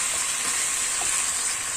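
Goat trotters fry in a pan, a close, steady sizzle with faint stirring textures and no voices.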